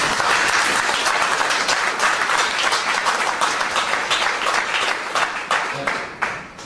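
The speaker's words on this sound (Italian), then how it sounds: "per cui accogliamolo con un applauso" A conference audience on fish farming and fishing in the Gulf of Manfredonia breaks into loud, sustained applause of many hands clapping, steady throughout and thinning slightly toward the end.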